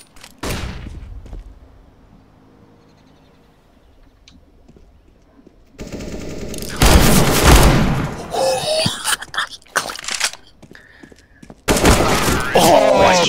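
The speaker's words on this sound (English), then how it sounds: "Deploying flashbang." A sharp blast from a flashbang is followed by quiet, then dense volleys of gunfire and explosions in a video game, loud and close with brief gaps between bursts.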